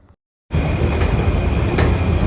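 A metro train at a Bangalore station in Electronic City sets off a sudden loud, steady rushing rumble of wheels and carriages, with faint higher squeals above the roar.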